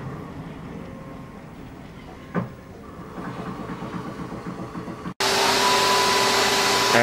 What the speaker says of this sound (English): the machine likes to make sure that it's done a good job, so it always does a rescan after it does the fret dressing